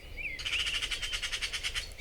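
A magpie calls with a rapid, harsh, rattling chatter of evenly spaced bursts, close and fairly loud, after a brief faint whistle, with no talk over it.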